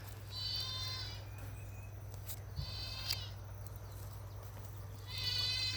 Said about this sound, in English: Now you can hear the little goat in the background.